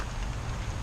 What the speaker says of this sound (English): this rain's coming down